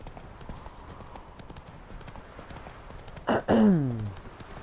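Hooves of Roach the horse in The Witcher 3: Wild Hunt clopping softly over ambient game sound, then a loud snorting whinny near the end.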